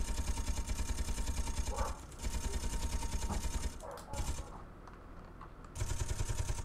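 Ship weapons fire in the Space Engineers video game as rapid, continuous rattling bursts, loud and dense, broken by brief lulls.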